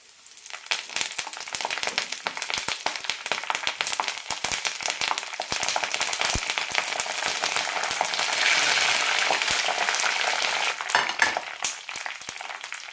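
Curry leaves dropped into hot oil with frying sev on medium flame, a dense, continuous crackling sizzle that swells midway and stays close and loud throughout, with no talk.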